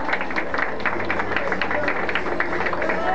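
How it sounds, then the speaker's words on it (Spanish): Crowd clapping together at a fifteenth birthday party in a home setting, a steady rhythmic patter of many hands with some voices mixed in, moderately loud throughout. "Vamos a aplaudir"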